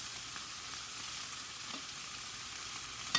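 Vegetables simmering in a pan, spinach among them, give a soft steady sizzle and bubbling hiss that holds evenly throughout, close and quiet, with a faint tap near the end and no talking.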